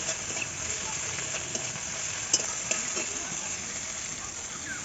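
Masala of chilli, tomato and salt frying in a pan for an okra curry, giving a steady faint sizzle with occasional soft pops and stirring scrapes.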